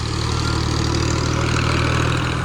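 Steady idling diesel of an Al-Ghazi tractor runs alone, a constant low throb with a strong rumbling hum and no voices.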